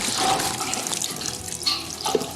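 Water pours and splashes steadily from the tangent draw-off valve of a Vulcan VG30 braising pan during cleanout, a continuous broad rushing flow heard close and alone.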